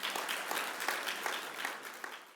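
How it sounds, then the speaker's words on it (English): Audience applause at a chemtrail summit welcoming a speaker: steady, moderately distant clapping from a modest crowd, continuous and even throughout. "So let's give him a round of applause"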